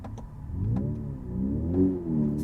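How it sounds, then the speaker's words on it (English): A Kia EV6 GT's simulated engine note rises and falls in pitch as if revving, smooth and moderately loud, with a couple of faint clicks. "with this fake engine sound"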